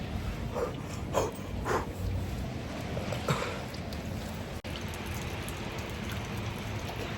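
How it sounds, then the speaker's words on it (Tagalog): Heavy rain falls in a steady, dense wash of noise around a car on a road trip, with a few brief louder spatters standing out near the start. "puros ulan"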